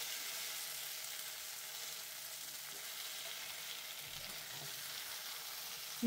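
Boiled eggs sauté in a pan for a Bengali-style egg curry, giving a faint, even hiss of frying oil that runs steadily throughout, with a small clatter at the very end and no voices.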